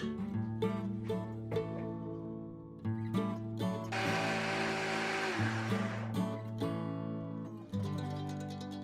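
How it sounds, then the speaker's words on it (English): A blender whirs loudly for a couple of seconds in the middle, blending a date mixture, rising above steady background music. "Transfer this mixture to a blender and blend till it becomes smooth and creamy."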